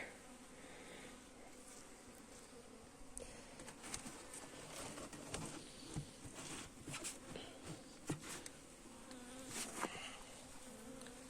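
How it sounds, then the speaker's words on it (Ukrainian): Honey bees drone and buzz steadily nearby, their hum rising and falling as individual insects pass close, with faint outdoor ambience and no talking. "Бджола зараз сідає на одяг, на руки."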